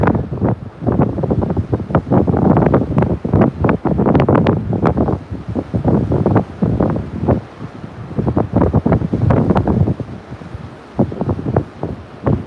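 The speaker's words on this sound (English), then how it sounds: "Doesn't look like these waves gotten any worse since I've been here." Strong wind buffets the microphone on the Grand Isle, Louisiana shore during Tropical Storm Marco, with surf waves crashing beneath in loud, continuous roaring gusts and no voices.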